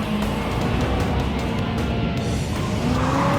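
A powerful muscle car accelerates hard, its engine roar dense and loud throughout with a rising tonal whine and a hint of tire squeal, heard close and without talking.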